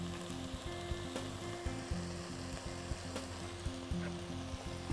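Raqaq pastry sizzling in a pan after broth and ghee are poured in, a steady close crackle and hiss with occasional soft knocks.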